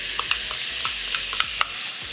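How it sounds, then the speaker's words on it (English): Chopped tomatoes go into a hot pan for Udupi-style sambar, with a continuous loud sizzle and a few light taps and stirring clicks over it, close by. "I'm adding now the chopped tomatoes."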